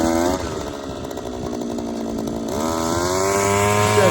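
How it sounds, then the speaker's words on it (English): A loud, steady motorized ice auger roars continuously while drilling a hole through ice, its engine pitch shifting slightly partway through as it bores in. "We gotta drill that hole."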